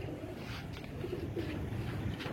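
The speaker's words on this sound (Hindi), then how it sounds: "यही ओरिजिनल इमाम दीन कबूतर है" Imam Din pigeons cooing softly, a low murmuring coo repeating throughout against steady background noise, with no clear talk.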